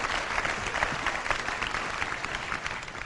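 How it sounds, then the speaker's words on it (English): A crowd at a motivational talk gives a round of applause, a short, steady burst of close clapping with no voices over it. "Give a round of applause, guys."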